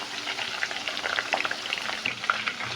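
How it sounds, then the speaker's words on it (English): Onions frying in hot, lightly spiced oil for Nigerian jollof rice, a steady close crackling sizzle with scattered sharp pops and no voices. "as I'm frying the onions"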